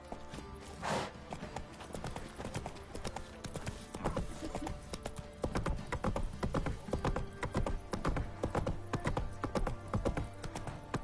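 Roach, a horse in The Witcher 3, gallops with steady, repeated hoofbeats throughout, carried over a busy game soundscape and getting louder and denser in the second half.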